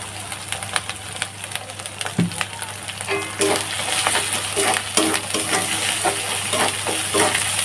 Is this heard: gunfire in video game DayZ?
no